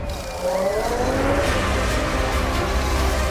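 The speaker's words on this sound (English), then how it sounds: "Irvine passes and Häkkinen slinks back into the pits for dry tyres." Formula One race cars running on a wet, slippery track during a race, with a steady loud blend of high engine whine and rising and falling revs continuing throughout, with no voices.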